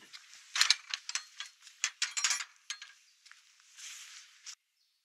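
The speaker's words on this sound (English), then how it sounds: "Pass through the gate." A metal gate on a walking trail in the Yorkshire Dales near Pen-y-ghent swings and latches, giving a close run of rattling clanks and ratcheting clicks that fade out, with no one speaking.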